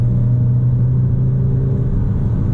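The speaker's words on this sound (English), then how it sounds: "I am going to test throttle response a little bit" An Alfa Romeo Stelvio Ti Lusso SUV with a 2-liter turbo engine gives a steady, loud low engine drone from inside the cabin as the throttle is held, without distinct rev peaks.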